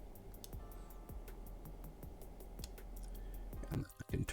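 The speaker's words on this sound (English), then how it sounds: "The game noises are way louder than my voice." Rapid regular clicking game sound effects from Pokémon Clockwork tick along at an even pace over a dense background hum, ending in a few louder bursts.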